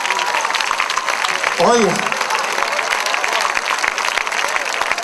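Church congregation applauding for Christ during a Spanish-language sermon, a steady dense wash of clapping throughout, with a voice calling out briefly over it.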